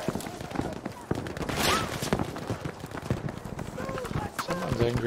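Video game gunfire crackles in rapid irregular bursts amid a busy battlefield mix, with shots and impacts layered over running sounds and a voice talking.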